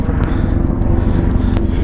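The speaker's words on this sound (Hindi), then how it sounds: "ऊपर देखो हेलीकॉप्टर भी जा रहे हैं यहाँ पे।" Helicopters flying between Kedarnath and Badrinath over the Pung Bugyal meadow on the Rudranath trek give a steady, loud rotor and engine drone with a few sharp clicks.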